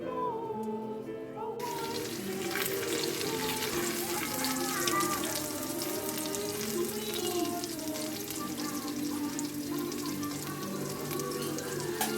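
Fish fillet frying in hot oil in a home kitchen, a steady close sizzle and crackle running throughout the clip with no speech.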